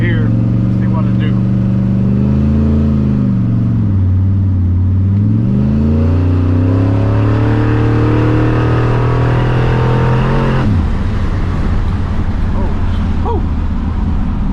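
A 1979 Ford F100 truck with a 408 stroker engine accelerates hard in second gear, the loud engine note climbing steadily in pitch, dipping once, then rising again before a sharp drop, heard close and continuous throughout.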